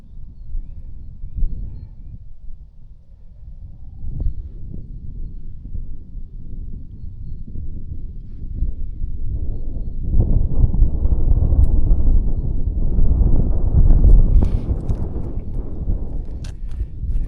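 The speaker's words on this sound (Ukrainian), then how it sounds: "Е, вітер зривається." Low, buffeting wind rumbles against the microphone out on river ice, starting mild and swelling into stronger, louder gusts toward the end.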